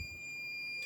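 A multimeter with new test leads gives a continuity beep: a steady, thin electronic tone held at an even level for nearly a second, then cut off.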